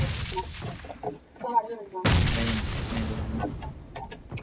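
A grenade explodes in the mobile game PUBG Mobile with a single loud, sudden blast that rolls off slowly, preceded by faint gunfire and game noise.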